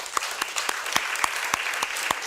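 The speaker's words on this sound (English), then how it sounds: "So a round of applause to all of you for the great work you do." Conference audience applause, a modest crowd clapping in a loose, moderately paced rhythm with individual claps standing out, steady and mid-level in loudness.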